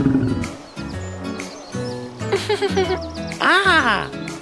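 A cartoon lion roars loudly in a children's zoo color-learning game, a rising and falling growl near the end, following cheerful voiced narration.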